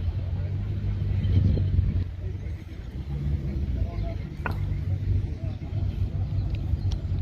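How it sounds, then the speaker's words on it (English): Cars roll into a Meguiar's Coffee and Cars show with a continuous low rumble of engines and traffic, and people talk over it throughout. "Cars are just rolling in all the time."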